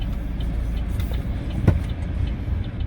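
A Chevrolet Trax 1.4 gasoline turbo small SUV sets off on a test drive, its steady engine and road noise droning continuously at close range, with one brief louder thump midway.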